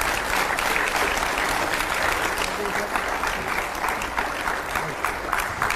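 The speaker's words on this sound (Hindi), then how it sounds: "जोरदार तालियों से स्वागत करिए।" Loud, sustained audience applause welcoming Nitin Gadkari, Union road transport and highways minister, at a TV9 Bharatvarsh event, a dense continuous wash of clapping from a large crowd that holds steady throughout.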